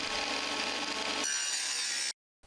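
A power saw on an Aldi saw bench cuts timber with a loud, steady, close whine that drops in tone partway through, then cuts off abruptly into silence.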